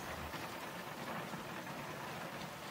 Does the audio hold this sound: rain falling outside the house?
yes